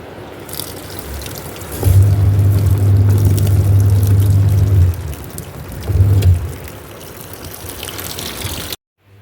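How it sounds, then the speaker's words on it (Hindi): Water is poured over freshly washed clothes to rinse them, a close, loud splashing gush lasting about three seconds, then a shorter second pour after a pause, with no talking. "मैं इसमें पानी चढ़ाऊँगी, रिंस करूँगी इसको"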